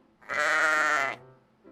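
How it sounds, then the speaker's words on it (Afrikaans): One sheep gives a single clear, close bleat of about a second, loud and alone, then quiet follows. "Ja, dit is 'n skaap."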